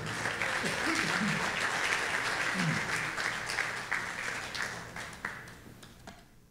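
A church congregation at a Sunday service applauds for the Lord: broad, continuous clapping that holds steady and then gradually thins and fades, with faint murmurs of voices mixed in.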